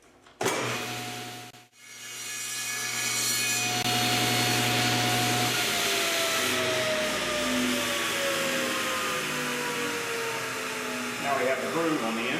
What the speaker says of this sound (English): We're going to cut the second groove to make it actually fit the little tip on the fastener.